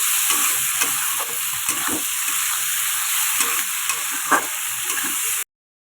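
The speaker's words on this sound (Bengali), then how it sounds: "এই দেখো সুন্দরভাবে নাড়তে হবে যাতে টমেটোগুলো এর সাথে মিশে যায়" Tomatoes and egg curry masala sizzle steadily in a hot pan while a spoon stirs through them with soft scraping strokes, the close frying hiss continuous until it cuts off abruptly.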